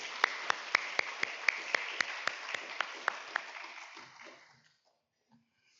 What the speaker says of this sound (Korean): 우리 한번 격려로 박수로 한번 격려하겠습니다.